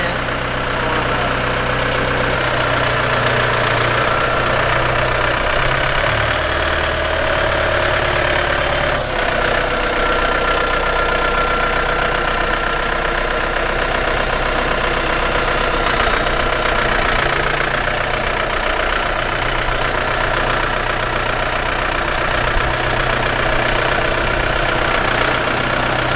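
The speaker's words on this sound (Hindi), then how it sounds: "ट्रैक्टर की जो आवाज़ है ना, मतलब ऐसे फील आता है जैसे महिंद्रा थार थी पुरानी आवाज़, मतलब एकदम जैसे गाड़ी जैसी है।" A new Solis Yanmar tractor engine runs steadily at idle, a loud, continuous close diesel rumble with a knocking throb and no pauses throughout.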